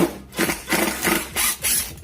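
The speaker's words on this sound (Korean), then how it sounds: "제가 이 나사 박은 자리, 거기 피스를 빼볼게요." A wood screw is backed out of a piece of wood at a woodworking bench, giving repeated rough grinding and creaking bursts in a steady rhythm of about five turns, close and fairly loud, with no talking.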